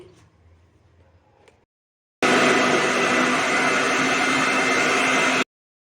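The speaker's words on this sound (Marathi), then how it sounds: "आवळा कॅन्डीत आपण पाणी टाकलं न टाकताच वाटायचं आहे" After a near-silent pause, a mixer grinder grinding amla candy with no water roars into a loud, steady, high-pitched whir for about three seconds, then cuts off abruptly.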